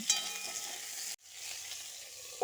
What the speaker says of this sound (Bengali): নুনটা দিয়ে ঝিঙের সঙ্গে ভালো করে নেড়ে চেড়ে মিশিয়ে নিয়ে